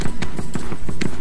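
A horse gallops in the video game Black Desert, fast rhythmic hoofbeats thudding loud and close in a steady run of about seven strikes, with no talk.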